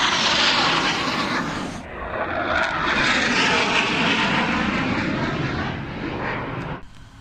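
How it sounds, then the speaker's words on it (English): A jet aircraft roars overhead in a loud, sustained flyby, a broad rushing engine noise that briefly dips and then swells again before cutting off at the end. "they've been doing like overhead flybys"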